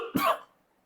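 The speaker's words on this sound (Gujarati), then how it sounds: "માફ કરજો મિત્રો, ઉધરસ થોડી હેરાન કરે છે." A single short, sharp cough from a person, close and clear, followed by silence.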